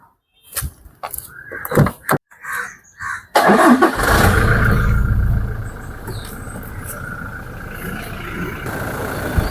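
A Toyota Fortuner 4x4 automatic engine cranks with a few short bursts, then catches and settles into a steady, loud idle that continues to the end.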